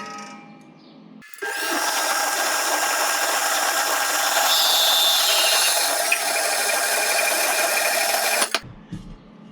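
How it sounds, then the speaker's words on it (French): A power saw cuts through a 52 cm piece of metal stock for a Solex moped engine workshop stand, a steady loud whine running about seven seconds alone before stopping abruptly. "Alors je coupe."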